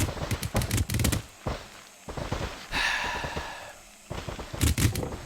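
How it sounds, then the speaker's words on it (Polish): In the video game Scrap Mechanic, a potato-shooting machine fires rapid bursts of sharp popping shots in quick clusters, with short pauses between volleys and a hollow whooshing sound in between. "No fajnie, że strzela ziemniakami, no nie?"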